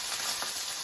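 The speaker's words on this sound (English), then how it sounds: "We want to hear sizzle." Food sizzles in a hot pan during vegan home cooking: a brief, steady, close hiss with no voices over it.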